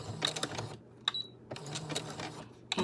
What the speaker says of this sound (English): I'm sewing forward, I'm back stitching